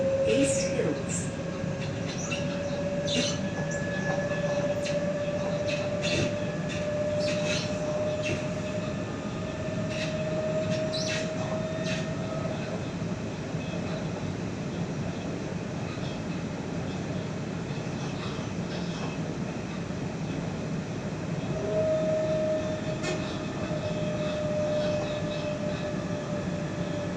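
A Sydney T8 Airport line train runs steadily with a constant rumble, squealing wheels and a rising motor whine, plus clicks and rattles throughout.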